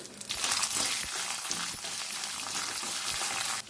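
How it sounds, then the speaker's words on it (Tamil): Black pepper and coconut sauté in a hot pan for a Tamil herb chutney, giving a dense, continuous sizzle with scattered stirring clicks and scrapes, close and fairly loud, with no voices. "கொஞ்சமாக மிளகு சேர்த்து வதக்கிக்கலாம்."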